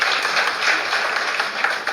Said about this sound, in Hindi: तो भूमिका के लिए एक बार तालियां बजाइए